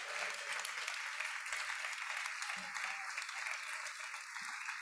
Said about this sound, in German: Bitte auch mal Applaus.